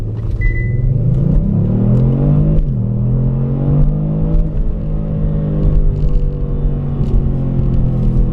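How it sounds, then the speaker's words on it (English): A Kia Stinger in stock form, traction and stability control off, launches under launch control, the engine note climbing loudly through the gears with a brief dip at each shift, heard steadily without talking. "Launch control in the regular car, remote's off."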